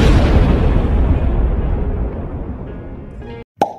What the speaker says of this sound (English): It's a bomb.